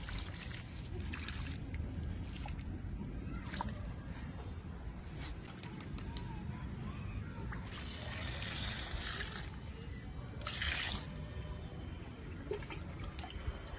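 Water pours onto brinjal plants in a rooftop terrace garden, a continuous splashing trickle with faint outdoor ambience and occasional distant bird calls.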